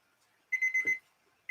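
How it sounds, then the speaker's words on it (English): A kitchen timer alarm goes off in a short burst of rapid electronic beeps, loud and close, lasting about half a second before a brief restart at the end. "Timer."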